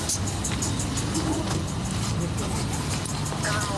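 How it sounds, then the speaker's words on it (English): A car left running and not yet put in park idles with a low, steady engine rumble during a police stop, under tense background voices and shouting. "Car is still running. He's not put it in park yet."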